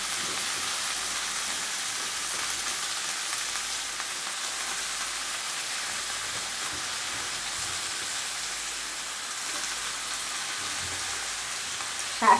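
Chopped spinach frying in a pan without added water, a dense, even hiss of sizzling that holds steady and close throughout, with a faint clink near the end.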